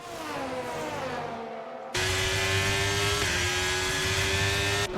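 Open-wheel F1 race cars roaring in the F1 23 video game at Silverstone, a steady high-pitched engine whine that jumps louder as a second car closes in and passes, with sustained revving and no talk.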